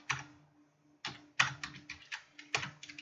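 Computer keyboard keys tapped at a networking lesson while configuring router settings, a few soft, close clicks in small irregular groups over a quiet hum.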